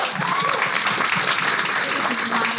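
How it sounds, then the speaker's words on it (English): Conference audience at a fireside chat with OpenAI giving a big round of applause, a dense steady wash of clapping from many hands with a few faint voices mixed in. "Can we give OpenAI and Romain a big round of applause for that?"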